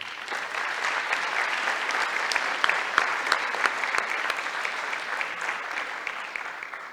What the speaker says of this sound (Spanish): Un aplauso nuevamente para él.